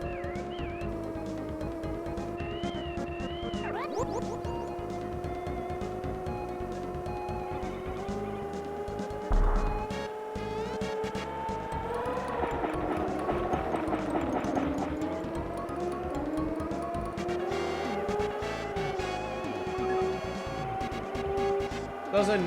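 Synthesized car engines in the SNES racing game Stunt Race FX produce a quiet, continuous buzzing drone with shifting pitch and game effects, running under a commentator's talk.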